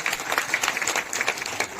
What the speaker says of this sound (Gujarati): જોરદાર તાળીઓના ગડગડાટથી આપણે તેને વધાવતા રહીશું।